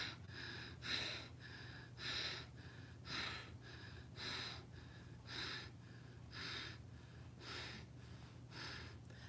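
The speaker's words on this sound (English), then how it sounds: "Inhaling through the nose." Repeated nasal inhalations during a yoga breathing exercise, about eight soft breaths in a steady rhythm, close and quiet over a low constant hum, with no talking.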